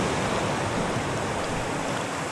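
A clear river flows steadily, a dense, continuous rushing wash of water that stays loud and even throughout with no voices.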